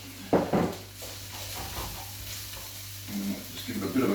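Chillies frying in a pan that is not yet fully hot, a soft sizzle with stirring scrapes and a few clattering knocks of the pan, close by.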